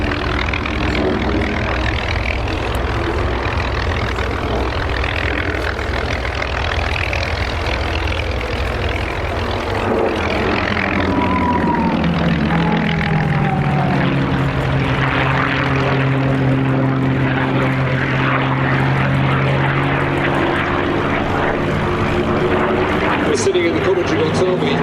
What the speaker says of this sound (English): He's on the left wing of this formation, flying that P-51.